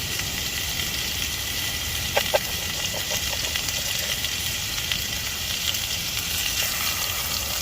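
Chicken frying in a pan at a woodland tent campsite, a steady close sizzle with a few sharp crackles and pops partway through, with no talking.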